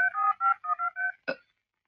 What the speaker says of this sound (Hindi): राणा साहब जाओ फोन लगाओ, जाओ फोन।